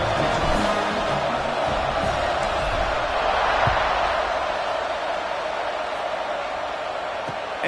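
Steady roar of a stadium crowd in an American football video game, broad and continuous at moderate loudness for the whole stretch, with faint muffled thumps and swells underneath.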